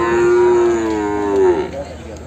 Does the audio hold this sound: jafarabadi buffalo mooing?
yes